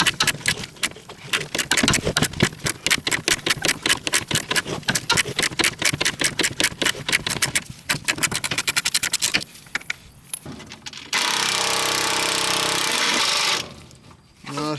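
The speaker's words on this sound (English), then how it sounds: "Taking these body bolts off." Tools work loose the body bolts on a 1975 Toyota FJ40 under restoration: a fast, loud mechanical rattling hammer in repeated bursts, then a steady, high-pitched whirring spin that stops abruptly.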